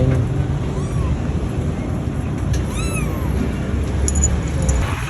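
A young kitten gives a few short, thin meows, one near the start and a clearer pair near the middle, faint over a steady outdoor background hum and noise.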